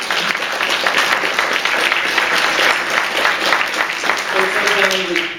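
Audience at an all-candidates meeting gives steady, fairly loud applause that fills the clip from start to finish, a dense wash of many hands clapping.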